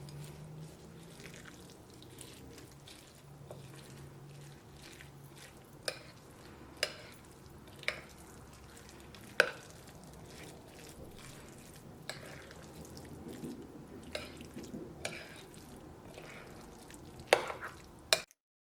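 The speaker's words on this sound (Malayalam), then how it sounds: "ഇതിലേക്ക് താളിച്ച് വെച്ചേക്കുന്നത് ചേർക്കാം. ഇത് ഞാൻ നന്നായിട്ട് മിക്സ് ചെയ്യാം." Tempering is stirred into curd rice, soft close squelching and scraping with a spoon, punctuated by occasional sharp clicks against the vessel, fairly quiet throughout.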